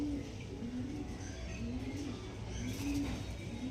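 Pigeons coo softly in a few low, rolling calls over a constant background hum, close but quiet, with no talk.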